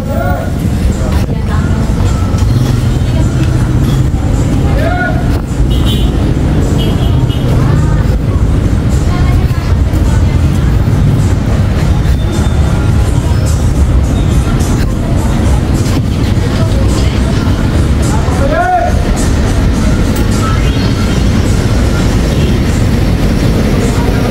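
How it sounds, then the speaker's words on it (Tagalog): A passenger van travels the road toward Bauan, Batangas, with a continuous loud engine and road rumble inside the cabin, rattles and clatter, and voices talking throughout. "sasakay na kami ng van papuntang Bawan"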